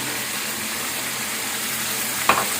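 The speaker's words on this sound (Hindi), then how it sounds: "अब इसमें ये लहसुन अदरक का पेस्ट डाल देंगे।" Garlic-ginger paste added to fried chicken in a karahi for creamy white karahi, giving a loud, steady, close sizzle that holds throughout, with one sharp brief clatter near the end.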